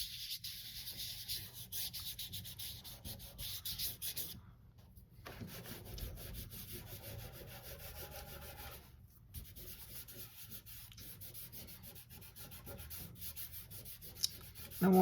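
Soft pastel rubbed across paper to blend a sky, a steady close dry scuffing with a brief pause partway through and another short break later, no voices.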